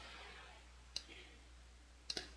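Two crisp computer mouse clicks, one near the start and a quick double click toward the end, heard close and clean over a quiet room with faint background hum.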